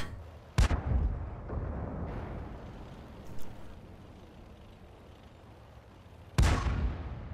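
Tank cannon shots in a tank battle video game, two sharp booming blasts several seconds apart with a rumbling engine bed and a faint distant crack between them.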